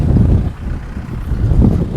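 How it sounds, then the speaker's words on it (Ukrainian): Steady outdoor wind over a hayfield during haymaking buffets the microphone in low rumbling gusts, swelling and easing throughout with no voices. "Сьогодні така сама, саме такий вітер, щоб сіно сохло."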